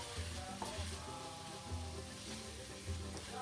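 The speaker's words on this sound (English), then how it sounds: "In this farofa, we're frying some garlic and bacon until the bacon starts to brown" Garlic, bacon, onion and parsley sizzle steadily in a pan for Brazilian farofa, a soft, continuous frying hiss with faint stirring sounds and no talking.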